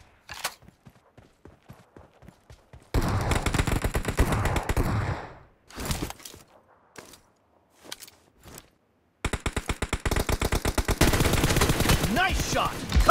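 Gunfire from M4 and M7 rifles in a PUBG team deathmatch: scattered single shots and short bursts, then long sustained loud automatic volleys with brief pauses between them.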